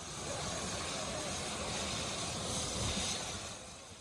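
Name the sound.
rescue helicopter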